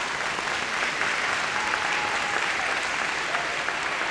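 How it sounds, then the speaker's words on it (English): Steady, dense applause from a seated audience at an honor society ceremony, sustained and even throughout with no pauses. "Give yourselves a round of applause."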